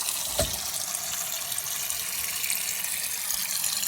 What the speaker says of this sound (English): The next step in making this hummus is we have to rinse it.